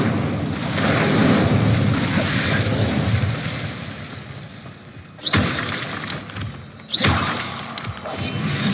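In the Hogwarts Legacy video game, the Incendio fire spell erupts in a roaring burst. Two sharp, louder flaring blasts follow after a few seconds.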